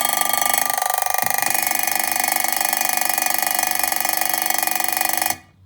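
An antique wind-up alarm clock rings loud and close in a continuous rapid metallic bell trill that runs for about five seconds before cutting off abruptly, with no talk over it.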